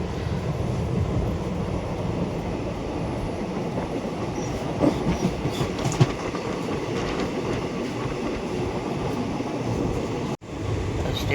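A passenger train runs between Mumbai and Bangalore, heard from inside the carriage as a continuous close rumble with faint rhythmic clacks of the rail cars and no speech.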